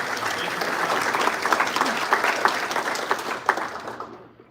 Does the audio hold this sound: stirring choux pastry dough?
no